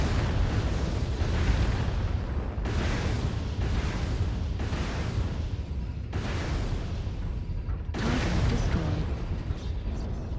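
Mech weapons in MechWarrior Online unleash repeated alpha strikes, loud explosive volleys bursting every second or two over a constant heavy rumble, with no speech.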